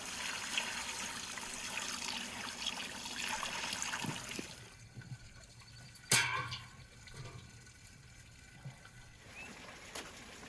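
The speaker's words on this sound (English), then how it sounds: "I place the lamb inside and cover it with spring water to get it boiling faster." Spring water pours into a pot over pieces of lamb outdoors, a steady splashing rush that fades around the midpoint, followed by a short sharp clink and quieter trickles.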